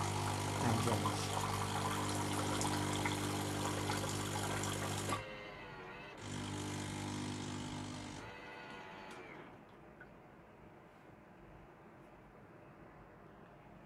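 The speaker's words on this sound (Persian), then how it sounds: "مرحله آب کشی شروع به کار میکنه و معمولا سریعتر هم انجام میشه" A Bosch espresso machine runs its rinse cycle during descaling: a loud humming pump with water flowing, which stops briefly, resumes, then drops to a quieter trickle.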